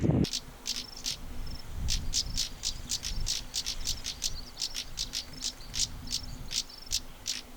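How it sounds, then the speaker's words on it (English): African stonechats in sub-Saharan scrub give sharp, repeated clicking alarm calls like two stones knocked together, a steady run of dry ticks over constant insect chirring and faint background hum. "African stone chats occur across most of sub-Saharan Africa, and are named after the call they make, which sounds like two stones hitting together."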